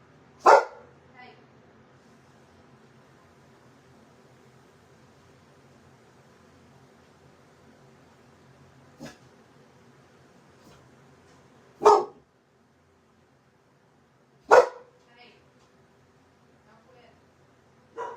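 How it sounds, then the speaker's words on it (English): A dog barks in four sharp, separate bursts spread over the stretch, close and loud against near silence, with a fainter yip or two between them. "Barking."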